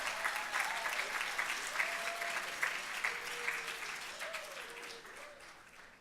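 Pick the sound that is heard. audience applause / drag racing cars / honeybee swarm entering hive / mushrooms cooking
audience applause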